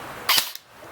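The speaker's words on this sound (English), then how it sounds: "So we're going to shoot 5 rounds through the chronograph." A King Arms Colt M4A1 metal AEG airsoft rifle fires a single shot through a chronograph, a sharp close snap with a brief mechanical click right after, then quiet.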